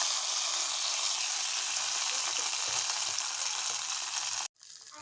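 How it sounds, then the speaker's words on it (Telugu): Mustard seeds, cumin, chillies and curry leaves sizzle in hot oil as a tempering for bisibelebath, a dense steady crackling hiss close by that cuts off sharply near the end. "చూడండి, పోపు వేసేసుకుందాం"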